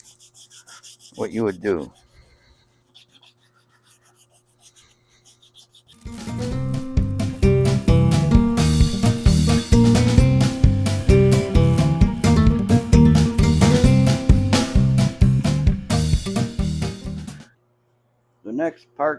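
Edges of Honda CT70 motorcycle parts are sanded by hand for paint prep, a loud, close, rhythmic rasping scrub lasting about eleven seconds, with brief speech before it begins and a short sound after it stops.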